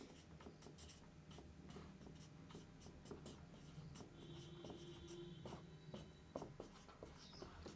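Pen writing out a geometry definition by hand on paper, giving faint, close scratchy strokes and taps in an irregular rhythm, with no talking.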